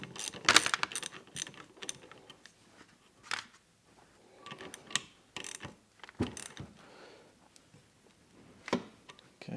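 Hand-tightening a nut on a Hobart A200 mixer during repair, heard as scattered metallic clicks, scrapes and ratchet-like ticks in short bursts, close and fairly quiet with pauses between.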